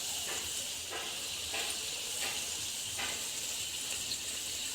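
Biscuit rotti frying in hot oil, giving a continuous bright sizzle and hiss up close, swelling in soft, regular pulses about once a second, with no voices.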